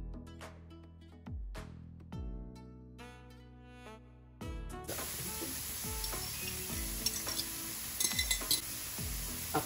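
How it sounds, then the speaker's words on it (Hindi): Egg fries in a little oil in a pan, a bright, steady sizzle that starts abruptly midway after a stretch of tuned, music-like notes, with occasional utensil clinks over the hiss. "एग जो है वो फ्राई करेंगे थोड़ा सा ऑयल डाल के।"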